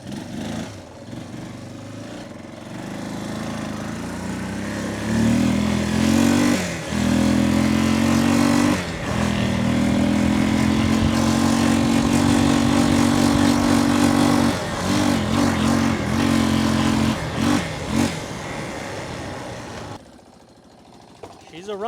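A 1993 Yamaha Big Bear 350 ATV, a smoky project machine, revs up and holds a steady buzzing engine drone for most of the stretch, with brief dips and a few lurches before cutting off near the end, voices talking faintly around it.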